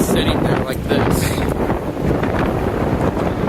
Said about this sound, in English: it's getting so windy.